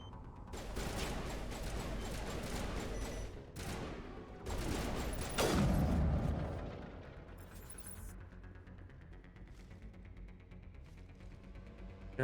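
Dense, loud gunfire and blasts from a Mass Effect firefight come in rapid bursts over several seconds, then fade into a lower rumble and scattered fainter shots, with no voices heard.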